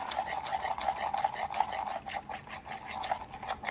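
Black resin being stirred in a cup, giving a soft, quiet, steady scraping and swishing with a regular back-and-forth rhythm, close up and heard alone.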